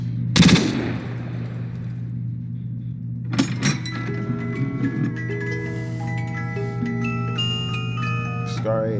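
A Scar H rifle fires in Call of Duty World at War, with a sharp burst at the start and another a few seconds later, followed by ringing tones and a voice talking.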